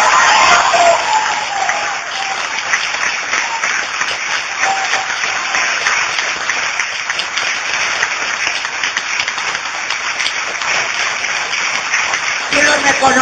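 Sustained, dense audience applause at an Elisa Carrió political rally in San Nicolás, a steady roar of many hands clapping that fills the whole stretch without pause.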